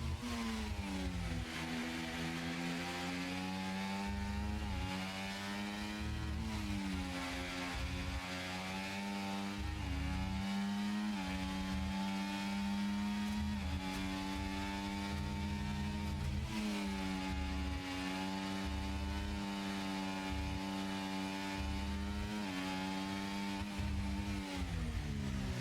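Race cars at full speed on the Qatar circuit during Race 11, engines screaming in steady, loud layered tones that rise and fall as cars pass and overtake, with no talk over them.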